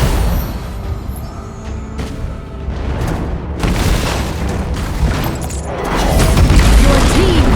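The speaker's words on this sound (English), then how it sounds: "Your team has destroyed a tower." A tower collapses in the Arena of Valor mobile game, with deep booming crashes and rumbling blasts that build louder toward the end amid dense battle effects.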